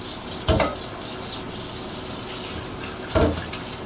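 Quinoa being rinsed and drained under a running kitchen tap, a continuous wash of water with two clattering knocks of a strainer or pot against the sink, no talking.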